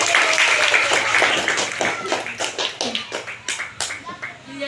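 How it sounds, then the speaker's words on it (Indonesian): A short round of clapping from a small group in a classroom, a series of sharp claps that thins out and fades toward the end. "tepuk tangan buat Mujaki."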